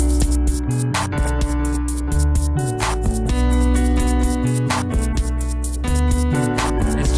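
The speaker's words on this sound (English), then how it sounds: "Slicer sounds like this." A looped drum beat runs through a slicer effect, chopping the rhythm into rapid gated stutters over sustained bass and chordal tones, loud, dense and continuous with no talking.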